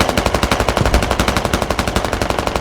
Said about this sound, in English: Pretty sure that's a BMP cook off